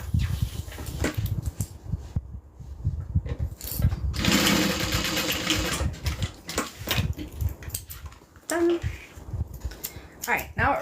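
A sewing machine runs a short stay stitch for about two seconds in the middle, with talk and handling noises before and after.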